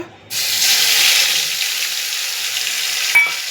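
Cumin-chili paste dropped into hot oil in a wok already tempered with black cumin bursts into a sudden loud sizzle, then settles into a steady hiss and crackle, with a brief clink near the end.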